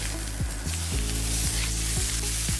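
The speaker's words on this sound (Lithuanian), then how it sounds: "Dedam steiką ir kepam kelias minutės." Steak searing in a very hot pan with plain oil, an intense, even sizzle close up with a low rhythmic hum running underneath.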